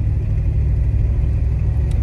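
Car engine idling with the curb idle set too high, a steady, loud, low rumble close by that holds an even pitch throughout without revving or talk.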